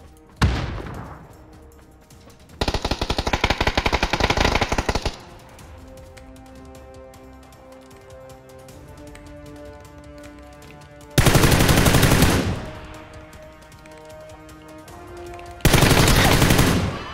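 Automatic gunfire in the video game PUBG comes in three loud, dense bursts of rapid shots separated by quieter stretches of background game sound, with some faint talking.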